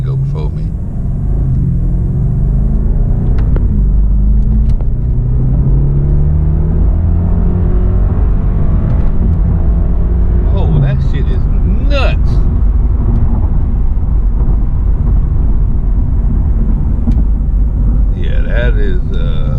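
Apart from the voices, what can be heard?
BMW 650i Gran Coupe turbo accelerating hard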